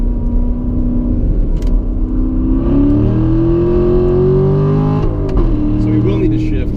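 A Corvette Z51 accelerating around a figure-eight track, a loud steady engine drone heard from inside the car, rising in pitch as it revs, then shifting, with a person talking over it.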